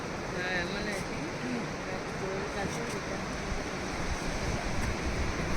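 Surf washing steadily onto Kolva beach in South Goa, a broad, continuous roar of breaking waves with some wind noise, lying under a person talking throughout.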